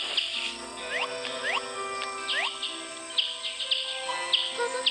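Bird chirping in the video game Boku Boku, with clear, quick sweeping whistles and tweets repeated in short phrases over a soft, steady background hum.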